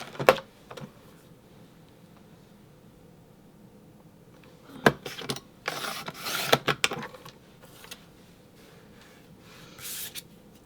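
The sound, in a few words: trimming cardstock paper for a card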